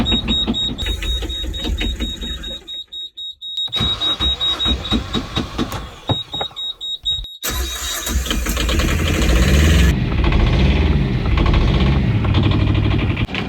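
A small Kubota-based Beta marine diesel in a tiny boat cranks over and catches, then settles into a loud, steady, rumbling idle up close, with a brief pause between starting attempts.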